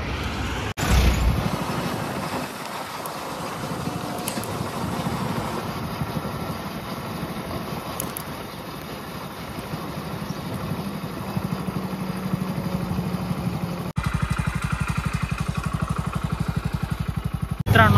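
A Hero Splendor motorcycle rides along a road, its engine a steady mid-level hum with road and wind noise. The sound continues evenly for the whole stretch, with a brief break and a slightly stronger drone near the end.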